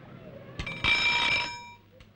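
An alarm clock rings in a film soundtrack, a loud metallic bell burst lasting about half a second that then fades, set against faint background hum.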